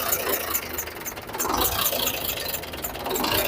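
A diesel engine with a back-compression blowout fault runs steadily at close range, a dense rumbling drone with knocking and rattling texture and a slight rise in revs partway through, with no voices.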